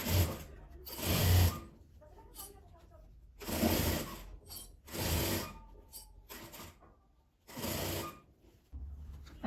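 A sewing machine stitches a fabric panel made from leftover scraps, running in several loud buzzing bursts of a few seconds each, separated by quiet pauses. The machine sounds close.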